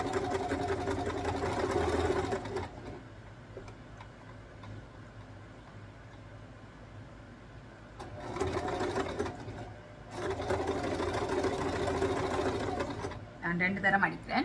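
A sewing machine stitches a saree blouse in two bursts of fast, even mechanical whirring, with someone speaking quietly in the pauses between runs.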